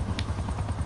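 Attack helicopter in a console video game, a brief steady rotor thrum with a low rhythmic chop, heard alone at moderate level.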